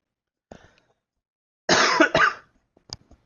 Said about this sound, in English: I still have my cough, which is a little annoying.